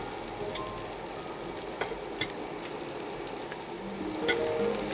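Cooked rice fries in a hot wok for mixed fried rice with egg and prawns, a continuous sizzle overlaid by repeated scraping stirs and light clinks, growing slightly louder toward the end.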